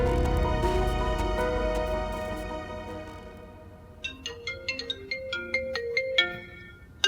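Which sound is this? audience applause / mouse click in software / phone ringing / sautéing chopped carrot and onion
phone ringing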